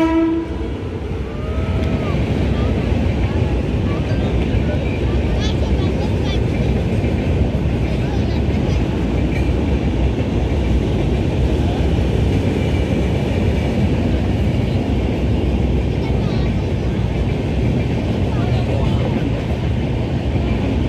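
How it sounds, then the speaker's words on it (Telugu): A train crosses the 4.1 km Godavari bridge at Rajahmundry, a loud continuous rumble and roar that holds steady for the whole stretch, with a brief horn-like tone at the start. "అదిగోండి ట్రైన్ వస్తుంది చూడండి."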